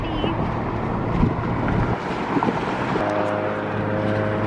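Ocean waves wash against the coastline in a steady broadband roar, mixed with heavy wind buffeting the microphone throughout.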